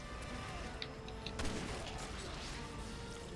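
Gunfire in the video game Resident Evil 6: a dense, continuous rattle of shots with one louder blast near the middle, steady and fairly close throughout.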